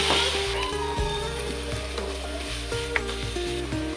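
Water poured into a hot pan of spice paste while cooking Mie Aceh, a steady loud sizzle running throughout with faint clinks and scraping, no talking.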